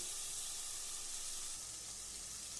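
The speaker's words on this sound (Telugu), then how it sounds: "కాస్త వేయిస్తాను వీటన్నిటితో పాటు వేయితే బాగుంటుంది" Chicken and vegetables fry in a pan with a steady, close sizzling hiss that runs unbroken throughout, with no voices over it.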